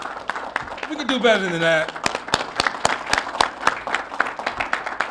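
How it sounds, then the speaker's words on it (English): A conference audience applauds at a journalists' regional summit welcome, a burst of clapping behind a voice, then thinning into scattered distinct claps. "Please give yourself a round of applause."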